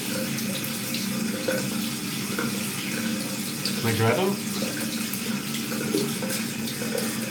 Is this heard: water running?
yes